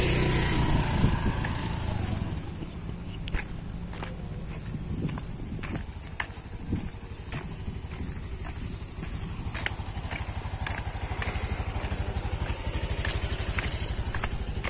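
A Honda Beat scooter engine hums steadily throughout, carrying two riders, with a continuous droning whir and occasional clicks and bumps as it rolls along.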